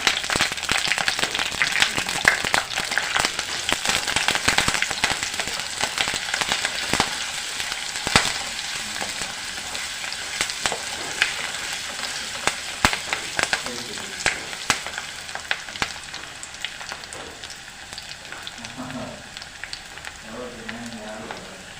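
Chopped garlic and ginger sauté in hot oil in a pan for a Kerala-style squid roast. A loud, crackling sizzle fills the stretch and eases off toward the end, broken by occasional stirring scrapes.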